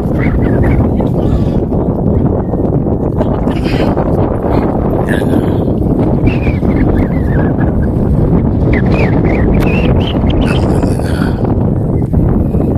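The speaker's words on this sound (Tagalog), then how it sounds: "Grabe, sobrang hangin dito." Strong wind buffeting the microphone on Tinawagan Hills, a loud, constant roar of gusts that never lets up, with a few faint higher sounds scattered through it.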